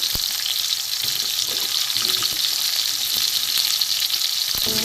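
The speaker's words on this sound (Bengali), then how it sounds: "পটল মোটামুটি ভাজা হয়ে গেছে" Pointed gourd and pumpkin fry in a pan on a gas stove with a dense, steady sizzle and crackle, close and loud, and a faint utensil tap near the end.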